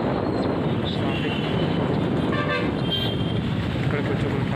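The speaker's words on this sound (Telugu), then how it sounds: "ఇక్కడ కొంచెం ట్రాఫిక్ ఉంటుంది. 2-3 కిలోమీటర్స్ వరకు ఉంటుంది." City road traffic on the way from Hyderabad toward Chilkur, a dense steady roar of engines with repeated car horns honking throughout, loud and close.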